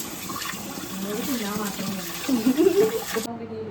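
Jeerakasala rice being washed under a running tap, a steady broadband rush of water pouring throughout and briefly swelling near the end, with faint voices in the background before it cuts off abruptly.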